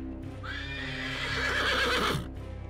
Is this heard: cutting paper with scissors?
no